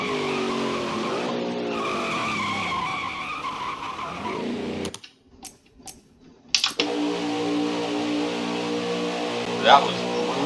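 A race car crashes and skids in the NASCAR Heat 5 video game. A long, loud scraping roar with tire noise runs under steady engine tone, breaks into a few sharp impact bangs, then returns to sustained engine drone.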